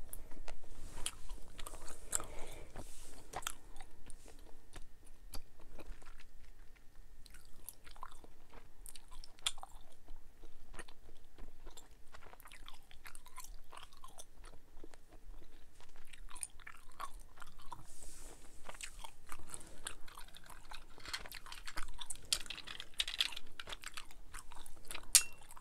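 Close, crunchy chewing and biting of snacks such as marshmallows, corn chips and apple, with irregular soft and crisp bites spread through a quiet background and no talking.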